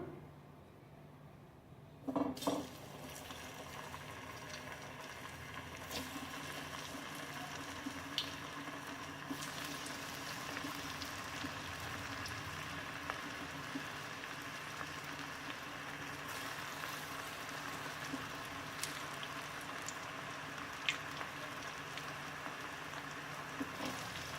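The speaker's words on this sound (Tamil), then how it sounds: "இப்போ நம்ம வந்து இதில் கோலா உருண்டைகள் ஒன்று பொரிச்சு எடுத்துக்கலாம்." Raw jackfruit kola balls deep fry in hot oil, a steady faint crackling sizzle that runs throughout with scattered small pops, after a short clatter as they drop in.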